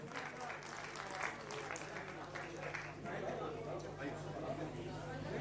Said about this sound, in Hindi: जोरदार तालियां भाई साजन पाठक जी